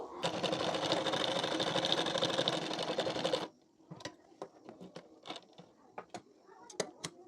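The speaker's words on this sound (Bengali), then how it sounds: "এই দাগ বরাবর করে সেলাইটি দিয়ে নেবো" A sewing machine runs a steady, loud continuous stitch along a marked line on a blouse collar for about three seconds, then stops, leaving quieter scattered clicks and handling of fabric.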